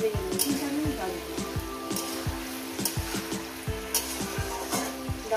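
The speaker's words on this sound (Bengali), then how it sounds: "আরও 4 মিনিট ভেজে নেব" Onions, green beans and potatoes fry in a pan, a close, steady sizzle broken by repeated spatula scrapes and knocks, with a voice talking over it.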